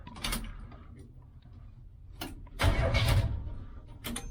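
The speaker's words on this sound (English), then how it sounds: "the engine cranks" A 1972 Chevy Nova engine cranks in short bursts, the starter churning loudly for about a second at a time with pauses between, close by and without speech.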